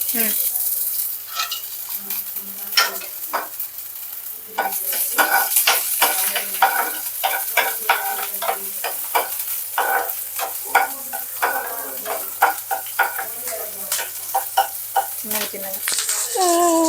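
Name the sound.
green chillies frying in pan for gobi manchurian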